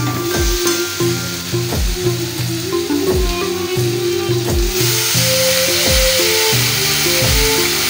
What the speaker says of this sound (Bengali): ওদিকে মশলা ভাজা চলছে